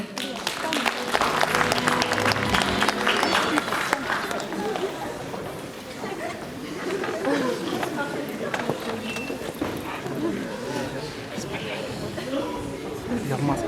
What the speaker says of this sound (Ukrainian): Зустрічайте їх найтеплішими оплесками.